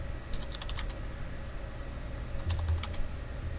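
Fingers type on a computer keyboard in two short bursts of quick key clicks, fairly faint over a low steady background hum.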